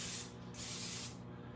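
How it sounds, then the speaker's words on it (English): Two hissing bursts of olive oil spray from an aerosol can onto onion rings, the first short and the second longer, close up over a low background hum. "This is olive oil. And she's going to spray them."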